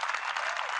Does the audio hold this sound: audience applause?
yes